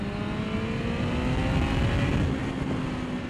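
A Yamaha FZ1 motorcycle engine revs on a street ride as the rider drops a gear, a loud steady drone with shifting pitch, heard close with wind rush and no talking.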